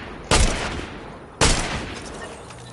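Two sharp bursts of gunfire from the video game Fortnite ring out about a second apart, loud and close against a steady background hum, with no voices over them.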